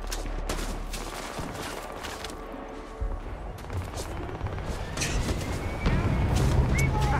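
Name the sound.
gunfire from a video game character shooting over cover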